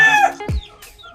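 Hens cluck close by while being fed corn grits, a couple of short throaty clucks and squawks separated by brief pauses, no talk.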